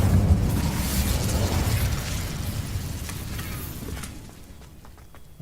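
Incendio fire spell cast in Hogwarts Legacy, a broad roaring whoosh of flame with a burst at the start that holds steady and then fades out over several seconds, loud and close with no talk.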